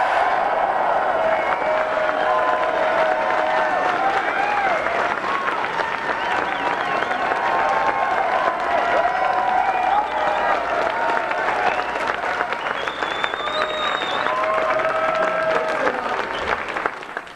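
An audience at a political rally in Michigan applauds and cheers for Congressman Justin Amash, with dense sustained clapping, whoops and whistles from a large crowd, steady and loud throughout.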